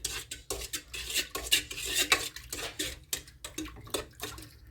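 A spoon clinks and scrapes rhythmically against a bowl, stirring a liquid yeast and sugar mixture for pizza dough, close and steady with no talk.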